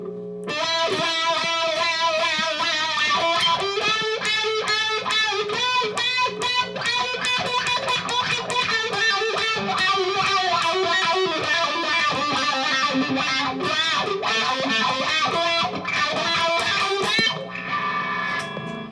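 Distorted electric guitar through a wah pedal, playing a steady rhythmic pattern with a sweeping wah, loud and continuous, ending abruptly near the close.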